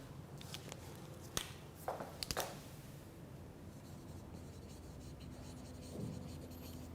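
A pen writing on paper during an English grammar lesson, with quick scratchy strokes and a few sharper taps early on, then a quieter stretch of faint background noise. Nobody speaks.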